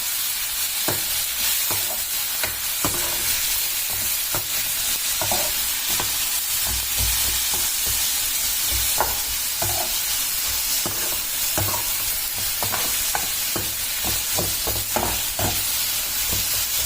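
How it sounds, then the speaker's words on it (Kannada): Two chopped onions fry in hot oil in a pan, a steady close sizzle punctuated by repeated scraping stirs of a spoon, with no talking. "ಈರುಳ್ಳಿ ಚೆನ್ನಾಗಿ ಫ್ರೈ ಆಗಬೇಕು"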